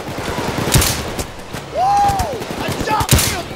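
Gunfire in the PayDay 2 heist game, aimed at a taser enemy: a loud, close fusillade of rapid shots mixed with game effects, including a brief rising-and-falling electronic tone partway through.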